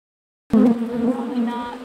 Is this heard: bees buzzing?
yes